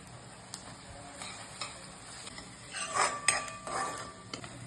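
Ginger garlic paste hitting a hot pan of mustard seeds, asafoetida, green chillies and onion while cooking veg biryani, giving a soft sizzle with stirring scrapes and a few clinks of a spoon against the pan, louder bursts near the end.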